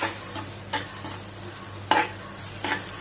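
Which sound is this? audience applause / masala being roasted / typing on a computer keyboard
masala being roasted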